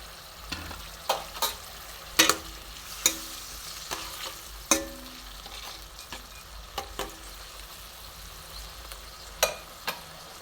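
Banana stem simmering with tempering spices, salt, turmeric and sugar in a pan, with a steady soft sizzle broken by sharp, irregular scraping clicks of a spoon stirring against the metal.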